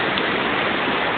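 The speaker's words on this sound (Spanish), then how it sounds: "Estamos aquí en la cascada" Steady, dense roar of falling water from the Xichú cascade waterfall, a broadband wash heard close and loud with no voices over it.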